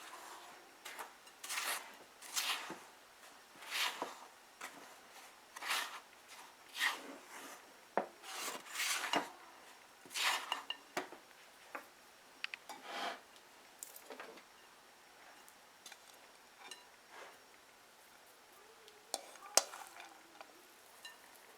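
Irregular scraping and rubbing strokes of a spoon stirring sugar into a custard carrot cake mixture in a bowl, close and fairly quiet, repeating unevenly throughout with no talking.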